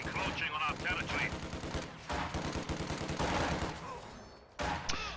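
German MG42 machine gun in a World War II strategy game, rattling off rapid bursts of automatic fire with overlapping gunshots, loud and close, broken by brief pauses.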